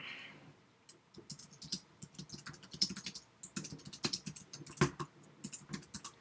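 Rapid, irregular clicking of fingers typing on a computer keyboard, close and fairly quiet, in bursts with short pauses and no talk.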